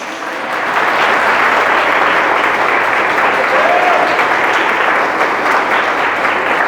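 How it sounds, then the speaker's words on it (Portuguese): Sustained applause from a church congregation during a worship service, a dense, steady wash of clapping that rises quickly and holds at full loudness throughout with no speech over it. "Se a resposta for sim, você vai dar o aplauso que você puder, tá bom?"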